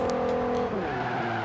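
A Volkswagen Golf 3 VR6 in Forza Horizon 4 runs steadily and loud, its engine tone dropping in pitch midway as the tires briefly squeal, with no voices present.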